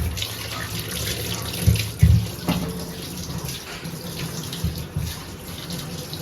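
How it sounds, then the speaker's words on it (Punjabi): Tap water runs steadily into a sink while lemons are scrubbed and washed by hand, with a few soft knocks and splashes rising over the continuous close, moderate flow. "ਅੱਛੀ ਤਰ੍ਹਾਂ ਨਾ ਰਗੜ ਕੇ ਧੋ ਲੈ"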